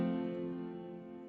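An F major chord rings out with a wide, long reverb, a sustained tonal wash that slowly fades over about a second, heard alone with no voices.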